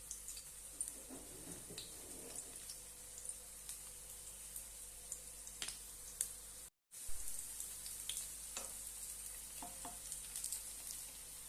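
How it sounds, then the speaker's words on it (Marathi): Sweet corn tikkis shallow fry in a pan, giving a soft, steady sizzle close by. Faint scrapes and clicks of turning are heard, and the sound cuts out briefly near the middle. "आता आपण त्यामध्ये ह्या टिक्क्या बनवलेल्या घालूया आणि छानपैकी दोन्ही साईडने शालो फ्राय करून घेऊया"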